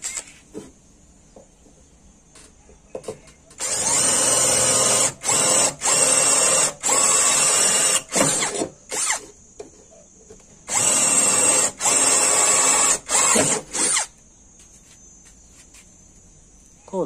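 A small OSUKA cordless brushless drill whirs in repeated high-pitched bursts as it drills, with short pauses between runs and a faint whine in the gaps.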